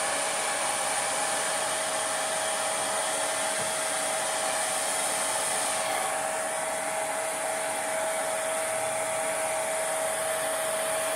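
A hair dryer blows over an Alka-Seltzer acrylic paint pour made without silicone, producing a loud, steady, close-up whirring rush that holds continuously throughout.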